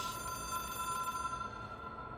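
A telephone rings in the video game Control, a steady electronic bell tone on an old hotline phone treated as an object of power, continuous and fairly loud for the whole moment with no talking.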